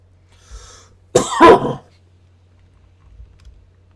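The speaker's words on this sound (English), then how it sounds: "That is an asthma cough." A single harsh asthma cough, close and loud, with faint clicks before and after in an otherwise quiet room.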